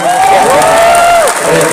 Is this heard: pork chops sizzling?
no